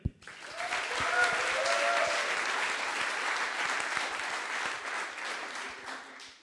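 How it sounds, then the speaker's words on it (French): Clapping from a coding bootcamp demo day audience in Paris swells quickly and holds as a steady, moderately loud round, with a few faint voices and whoops mixed in early on. "On peut les applaudir."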